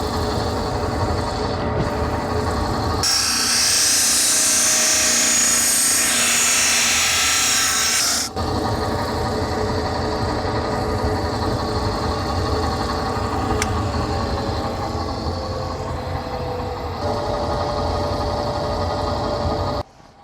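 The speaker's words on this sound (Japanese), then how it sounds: "次はプラズマで切った跡がまっすぐでないかグラインダーをある程度かけます" An angle grinder smooths plasma-cut knife steel at a Japanese blacksmith's shop: a loud, steady high whine with a harsher grinding burst early on, running continuously over a droning shop background.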